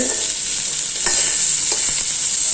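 Vegetables sauté in a hot pan, a bright continuous sizzle with occasional spoon scrapes and small pops, loud and close with no talking.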